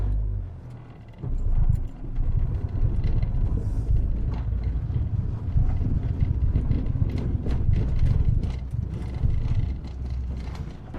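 Renault Twingo 1 in fifth gear at about 92 km/h, its engine bucking and surging, heard as a steady low rumble inside the cabin with faint uneven pulses and some road and wind noise.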